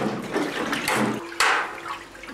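Hot water runs and splashes into a vat of Gouda cheese curd, giving a steady liquid pour with a brief louder gush partway through, with no talking.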